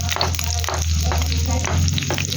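Meat frying in a small amount of oil for bihon, a steady close sizzle with faint stirring running continuously throughout.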